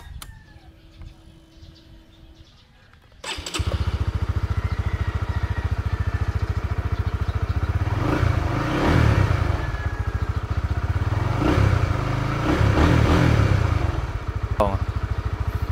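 Honda Winner X motorcycle engine running steadily nearby after a quieter start, a constant low droning hum with faint clatter and bird calls in the background.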